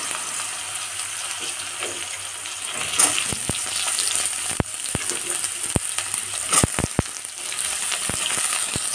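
Chopped potatoes and a green chili frying in hot oil in a pan, a loud continuous close sizzle broken by several sharp spoon knocks and stirring clatters.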